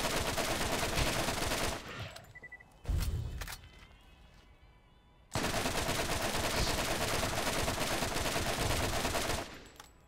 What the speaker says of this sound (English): Lots of shots. Was that just the shooting of a bullet?